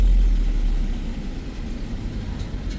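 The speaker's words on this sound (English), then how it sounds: "Well, it's definitely got an exhaust leak." A Ford Transit idles with an exhaust leak and a misfire, giving a steady low rumble that is loudest at first and then settles, with no voices.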